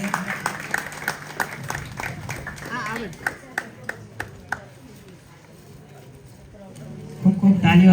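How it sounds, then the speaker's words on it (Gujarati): An audience at a temple festival prize-giving ceremony claps in a burst of separate sharp claps, fading after a few seconds as voices rise near the end. "ખૂબ ખૂબ તાળીઓથી વધાવીએ."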